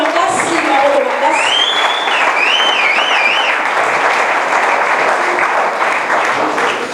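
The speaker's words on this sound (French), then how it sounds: "Applaudissements" A church congregation applauds at a sermon after a public confession of faith. The clapping is loud and dense and holds steady throughout, with a few whoops and cheering voices rising above it.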